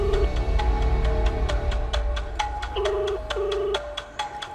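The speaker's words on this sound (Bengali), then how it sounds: "রিং হচ্ছে।" A phone ringback tone repeats in short electronic pulses, steady and fairly loud, with no one talking.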